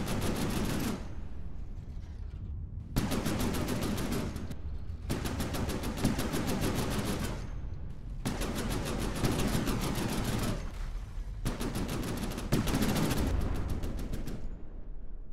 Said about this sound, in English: I'm taking some kind of return fire.